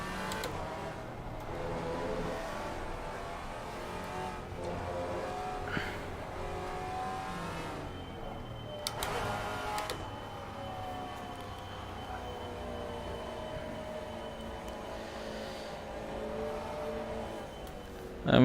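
Maserati GT4 race car engine in a sim racing game, a fairly faint steady engine drone with gear changes and rising revs, heard alone without talk.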